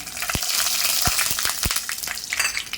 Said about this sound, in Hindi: अब इसके अंदर यहाँ पे मैं ये रेड वाली सूखी काश्मीरी मिर्ची है वो डाल दी हूँ, कड़ी पत्ते है और राई है